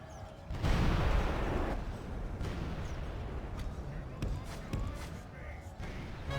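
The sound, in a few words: cannon tower fire in Medieval II: Total War video game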